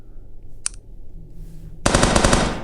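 Rapid burst of automatic gunfire, loud and close, rattling continuously after a single sharp click and a quiet pause, with no talking.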